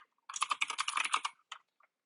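Quick burst of typing on a computer keyboard during coding, rapid clustered key clicks for about a second followed by a couple of isolated taps, fairly quiet and close with no speech.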